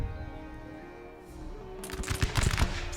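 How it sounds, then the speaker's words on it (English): Musket volley gunfire from an Empire: Total War battle set in 1600s colonial England: a burst of several loud overlapping shots crackles in near the end over a steady game music and ambience bed. "Oh, and he goes down in the volley."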